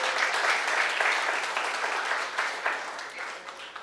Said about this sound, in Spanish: Damos ese aplauso al Señor.